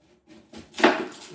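A knife chops brown onions on a kitchen board for chicken korma, a few soft knocks building to one firmer close thud.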